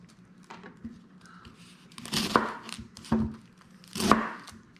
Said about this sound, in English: next we'll cut our onions